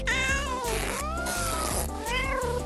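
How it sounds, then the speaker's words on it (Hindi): A cat meows several times in close succession, loud and near, the cries rising and falling with a whiny caterwauling edge over faint background music. "ये क्या बिल्ली है?"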